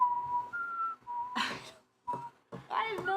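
A person whistles short, clear tones as a clue in a guessing game, sounding a few separate wavering notes with pauses between them, fairly close and moderately loud, while other voices murmur faintly around them.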